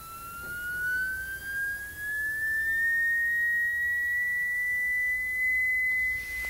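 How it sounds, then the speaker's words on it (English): Steady pure sine tone from a Kubik coil, held at one pitch and then gliding slowly upward while staying loud and continuous, with no other sounds. "that's 1000 hertz now, as you can see, and that's producing a sine wave through it"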